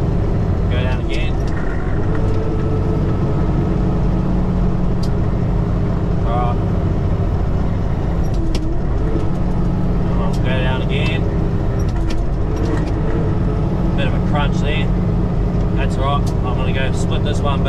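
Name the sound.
road train truck downshifting gears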